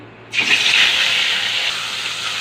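Rohu fish dropped into hot oil in a wok, a sudden loud hiss and sizzle that bursts in and then holds steady, close up.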